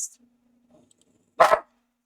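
A dog gives a single sharp, loud bark after a few moments of near silence, with no talking around it.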